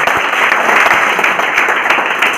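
Loud, dense audience applause fills the whole stretch, many hands clapping steadily with no voices on top.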